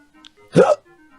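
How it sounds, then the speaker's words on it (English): A single short hiccup from a character in the adventure game King's Quest VII, a brief voiced gulp rising out of quiet background music. "And Jova has such amazing hiccups."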